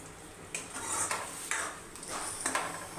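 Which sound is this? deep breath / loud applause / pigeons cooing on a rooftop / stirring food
stirring food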